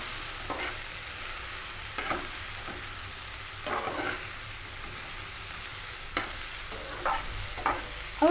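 Chutney ingredients sautéing in a pan with rock salt added, a low steady sizzle broken by repeated stirring scrapes every second or two, with no voices.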